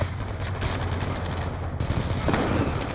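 Shotgun fire in the video game Black Ops 2, a dense, continuous roar of gunfire and explosive booms filling the whole moment, loud and close with no pauses.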